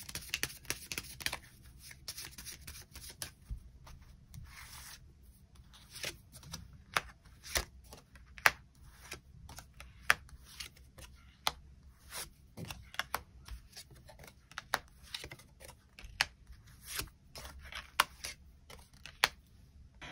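Tarot cards are shuffled and drawn close up, giving a long run of quick papery riffles, flicks and sharp card snaps at an irregular pace against a quiet background.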